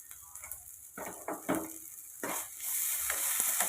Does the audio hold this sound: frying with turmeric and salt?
yes